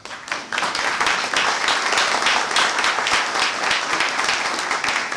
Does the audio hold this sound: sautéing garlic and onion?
no